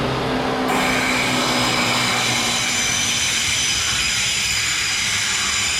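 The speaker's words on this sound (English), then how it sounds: "there may be a train coming through without stopping" A train rumbles through Troon station without stopping, with a sustained roar and faint squealing wheels, loud at first and fading as it moves away.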